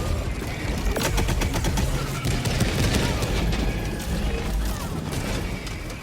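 W.A.S.P. launcher in Helldivers 2 firing rapidly at large tripod walkers, a dense run of sharp launches and heavy impact booms layered with battle clatter, loud and continuous throughout.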